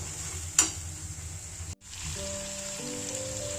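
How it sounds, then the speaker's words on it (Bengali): Spiced masala paste fried and stirred in oil in a pan, a steady close sizzle with a single scrape of the spoon and a brief break before the frying resumes, no talking. "এবারে এটা থেকে তেল ছাড়া অবধি কষাতে থাকবো।"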